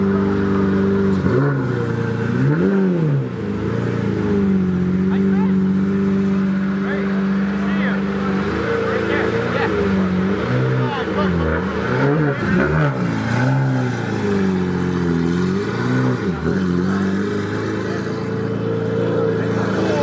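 Porsche GT2 RS with straight pipes, a loud close engine that rises and falls in repeated revving sweeps and pulls away, with people talking over it.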